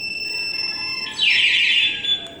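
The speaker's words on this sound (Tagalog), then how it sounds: "Pag ginalaw, ayan, tapos pangalawang galaw niyan, mag-alarm siya." A Mio motorcycle anti-theft alarm is set off by movement. It starts as a steady electronic tone, then rises into a loud, warbling siren sweep that holds for about a second before dropping off.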